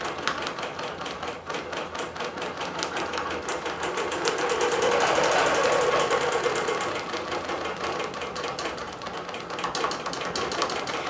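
A Bernina Q24 computerized quilting machine stitches a pattern in a steady, rapid mechanical hum with dense rhythmic needle clatter, close and continuous throughout and swelling slightly in the middle.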